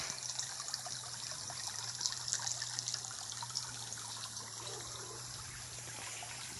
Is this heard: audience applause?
no